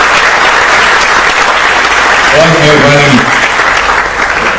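An audience claps continuously at a live show, the dense applause running throughout while someone briefly speaks over it.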